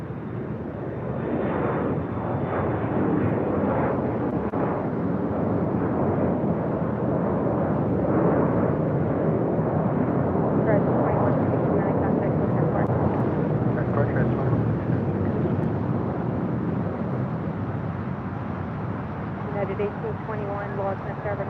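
American 1659 airliner taking off from runway 25 right at LAX, a steady broad jet roar that holds loud and even throughout, with no clear voices over it.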